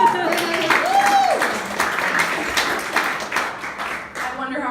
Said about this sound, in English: Everybody clap for him.